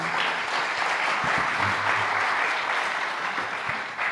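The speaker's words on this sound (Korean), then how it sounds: "우리 멘토 되시는 목사님들 위해서 박수 한번 주시겠습니까?" A gathered group claps steadily for mentor pastors during a church seminar held as a webinar, continuous even applause lasting throughout, with a faint low voice murmuring briefly underneath.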